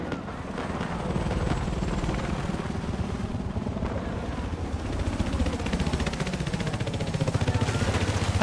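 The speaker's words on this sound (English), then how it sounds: "That's a helicopter." A helicopter in the video game Battlefield gives a steady, loud rotor thrum with rapid chopping pulses throughout, mixed with engine rumble and faint game noise.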